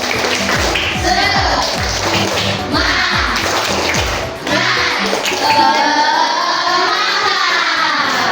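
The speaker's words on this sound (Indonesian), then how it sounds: "yuk 1, 2, 3, tepuk semangat" Children in a classroom do a rhythmic 'tepuk semangat' clapping chant, sharp claps in quick patterned bursts for several seconds, then a pause and a few looser claps with voices mixed in.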